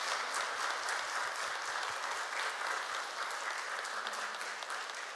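A congregation at a Won Buddhist Sunday service claps together, a full, steady round of applause that stays even and sustained throughout.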